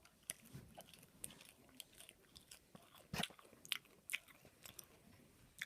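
Someone bites into and chews a rocket salad leaf, producing a quiet, close series of crisp crunches and wet chewing clicks with no talking.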